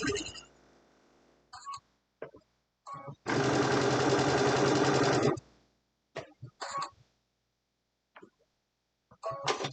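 A home sewing machine stitching a pillowcase runs in one steady two-second burst, with short taps and clicks of the machine before and after.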